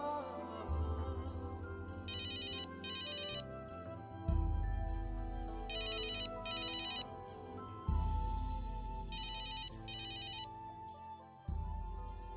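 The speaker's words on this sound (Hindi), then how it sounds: "मैंने कहा था ना फोन आएगा" A phone ringtone plays repeatedly, a looping electronic melody with bright chiming bursts, ringing clearly and alone for several cycles without any talk.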